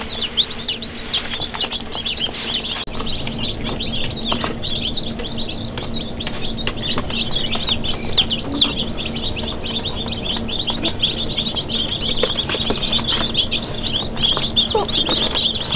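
Baby chicks being raised at home chirp in a steady, bright chorus of quick high peeps, close and continuous, with no talk over them.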